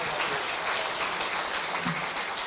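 An audience at a legislative preparatory meeting gives a warm, continuous round of applause to thank Professor Luo. The dense clapping is loud and sustained, with no talk over it.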